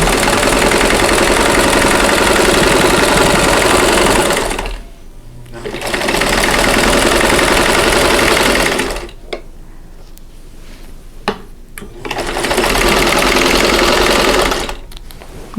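A sewing machine stitches quilt blocks together in loud, steady runs of rapid needle chatter, pausing twice for several seconds between bursts, with no voices.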